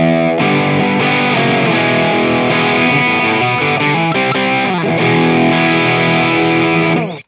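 Electric guitar playing a riff through a Boss DS-2 Turbo Distortion pedal, thick and saturated with layered chords, loud and continuous without a break before stopping abruptly at the end.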